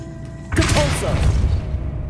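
A Depulso spell cast in Hogwarts Legacy lets out a sudden loud whooshing boom, followed by a rumbling magical blast that lingers and slowly fades.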